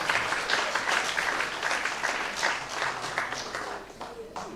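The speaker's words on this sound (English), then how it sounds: "Let's give a clap." An audience at a theology and society congress session claps steadily for several seconds, dense and sustained, with a voice faintly heard beneath it.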